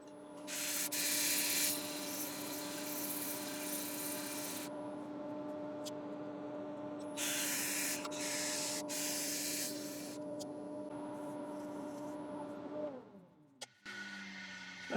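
A wooden bowl spins on a woodturning lathe while being sanded, the motor hum steady underneath as bursts of bright, hissing abrasive rubbing come and go, before the lathe winds down near the end.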